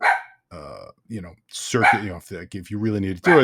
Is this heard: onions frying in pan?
no